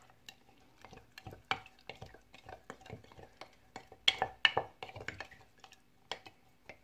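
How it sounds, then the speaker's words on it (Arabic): A wooden spoon stirs a mixture of barley flour and water in a bowl, producing repeated soft scraping strokes and occasional light knocks against the bowl, close and fairly quiet. "غادي نضيف شويه ديال الماء وكنخلط. معلقه ديال العود يكون احسن"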